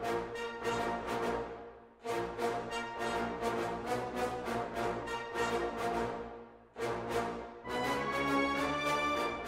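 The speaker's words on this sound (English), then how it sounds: "So the brass bit sounds like this." Big cinematic brass ensemble built from sample libraries, with Cinebrass trumpets among the instruments, playing loud punchy chords in rhythmic stabs and swells in a hall-like space.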